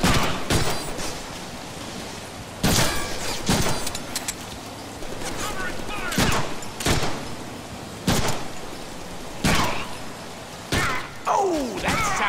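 Heavy bone-crunching impacts from the Deadpool video game land in irregular bursts, sharp loud thwacks and cracks separated by short gaps, with game effects between them.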